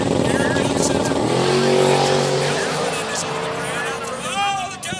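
Twin-turbo drag race car launching down the strip at Orlando Speed World during Sick Week, a loud rising engine roar with tire squeal as the car gets loose, while an announcer talks over it.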